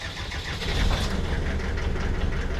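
A Land Rover 90 diesel being revived cranks and catches, settling into a steady, loud mid-pitched clatter that continues to the end.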